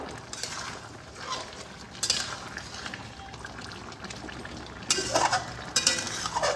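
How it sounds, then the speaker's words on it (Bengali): Drumstick curry with a little sugar is mixed in a pan, with a spoon scraping and clinking against the metal in a few bursts over a low bubbling background, close by with no talk. "এইবার আমি এর মধ্যে অল্প পরিমাণ চিনি দিয়ে দেব, স্বাদটা অসাধারণ হবে। ভালোভাবে মিশিয়ে নেব।"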